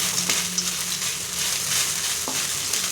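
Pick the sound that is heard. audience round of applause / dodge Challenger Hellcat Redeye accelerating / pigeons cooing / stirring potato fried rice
stirring potato fried rice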